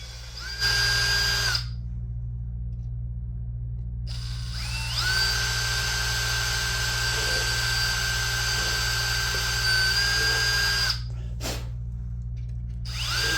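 A power drill pre-drilling screw holes whirs in steady bursts: a short run, a pause, then a long sustained whine, followed by a brief final spin, close and loud.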